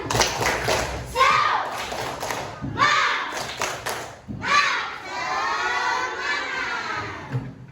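Classroom of young children shouting the rhythmic 'tepuk semangat' clapping chant in unison, bursts of voices alternating with claps and thumps, loud and close.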